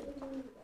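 A male pigeon gives a single close, loud coo, a short resonant call lasting under a second.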